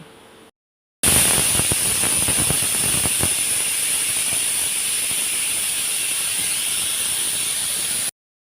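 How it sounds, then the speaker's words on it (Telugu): A pressure cooker on a stove, cooking lentils with ivy gourd, lets out a loud, steady high whistle of escaping steam that starts abruptly after a short pause and runs continuously for about seven seconds before cutting off. "మనం కట్ చేసుకునే లోపు కుక్కర్ విజిల్ కూడా వచ్చేస్తుంది"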